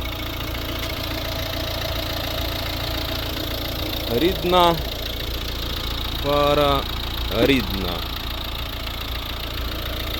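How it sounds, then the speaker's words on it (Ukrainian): A 1.6 D2 diesel engine in a 2011 Volvo V60 idles with an even mechanical rumble throughout, while a person speaks briefly in Ukrainian in short bursts over it. "Ось робота двигуна."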